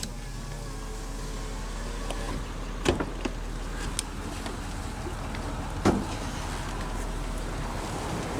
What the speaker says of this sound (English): now we'll roll down the driver's window and have a look at the engine bay